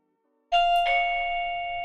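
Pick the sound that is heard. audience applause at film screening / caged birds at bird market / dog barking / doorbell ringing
doorbell ringing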